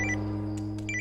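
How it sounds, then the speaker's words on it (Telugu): A mobile phone rings in a Telugu film scene with a short electronic ringtone of repeated bright beeping tones over a sustained low musical drone. "రే షుగర్ ఫోన్ చేస్తున్నారా?"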